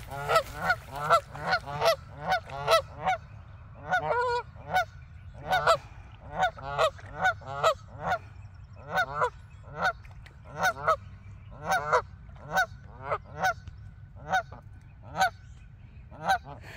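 Geese honking repeatedly in a loud, steady series of calls close by, with a low rumble underneath and no talk.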